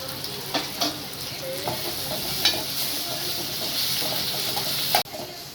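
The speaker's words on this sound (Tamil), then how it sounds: "இப்போ வந்து இஞ்சி பூண்டெல்லாம் வதங்கிடுச்சு." Ginger garlic paste fries with onions in a pan, giving a continuous close sizzle broken by several stirring scrapes and clinks of a spoon against the pan, ending in a brief cut and softer sizzling.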